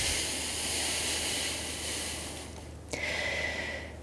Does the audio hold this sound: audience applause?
no